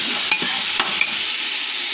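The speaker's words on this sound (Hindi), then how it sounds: "प्याज गोल्डन ब्राउन हो चुका है। थोड़ा सा हल्का सा पानी का छींटा देती हूँ।" Golden brown onions frying in a pan hiss with a steady bright sizzle, and a few sharp crackles and pops follow a light splash of water.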